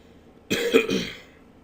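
A single rough cough up close, one short harsh burst that trails off quickly into quiet.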